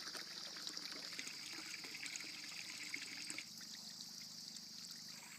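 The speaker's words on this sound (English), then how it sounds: "Been about a little over 24 hours that I've been pumping water in the pond." Water pumped through a tube into a newly built pond, a soft continuous trickle and splash heard up close, faint and steady throughout with no voices.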